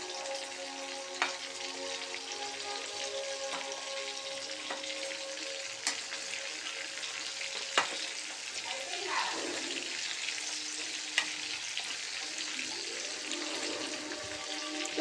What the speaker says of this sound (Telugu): చికెన్ మసాలా వేసినాక వేడి వేడి నూనెలోకి వేసేసేయాలి